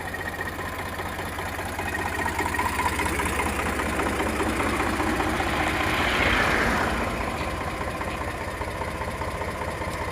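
An Eicher 368 tractor with an air-cooled Ricardo engine idles steadily in a low, even rumble with faint knocking, running alone without any voices and swelling slightly louder partway through.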